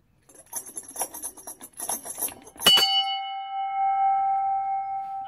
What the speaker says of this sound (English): I have this bell. It's like a bell on the boat.